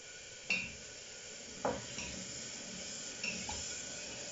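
Spices stir and spread in a hot pan, with three spaced spatula scrapes and taps over a faint, steady low sizzle.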